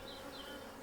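Nurse honeybees tending brood inside an allotment beehive give off a faint, steady buzzing hum that continues without a break and carries no voices.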